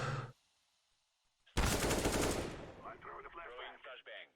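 Close, loud shotgun blasts and gunfire burst out on the Cache map of a tactical shooter video game, following a brief voice and near-silence, then trailing into rapid crackling reports and echoing tails.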